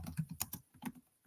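Quick run of computer keyboard keystrokes, roughly eight distinct clicks in uneven bursts, close and moderately quiet with a brief pause midway.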